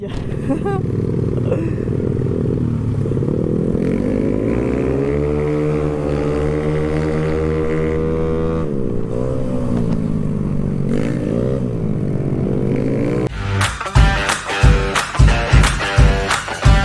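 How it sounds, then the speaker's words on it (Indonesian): A Honda Beat 115cc scooter fitted with an Empus racing exhaust is revved up close. The engine note climbs and falls in long sweeps, then breaks into sharp, choppy bursts of throttle blips at the end. "sekarang udah diganti pakai knalpot empus racing"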